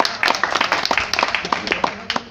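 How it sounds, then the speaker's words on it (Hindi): Audience clapping at a bench press competition, a steady patter of many hands applauding close by, with uneven peaks and no voices over it. "तालियां बजाकर खिलाड़ियों का स्वागत करते हैं"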